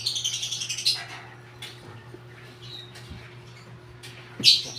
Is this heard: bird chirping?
yes